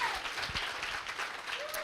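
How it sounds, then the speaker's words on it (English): Brief burst of audience applause at a live bookstore event, dense steady clapping from a crowd, with a voice briefly over it. "major round of applause"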